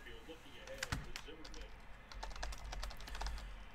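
Keys clatter on a computer keyboard as baseball card results are logged during a card box break. The typing is close and quick in uneven bursts, with faint talk in the background.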